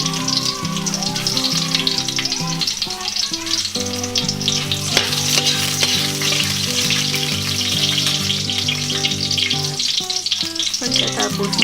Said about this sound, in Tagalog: Gigisahin na po natin. Hanggang sa ito ay mag golden brown ang kulay.